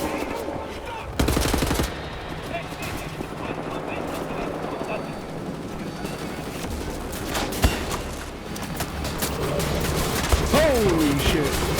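Gunfire from a video game about shooting Nazis, with shots and bursts spread over a busy mix of game noise and talking voices, plus one sharp louder crack near the end.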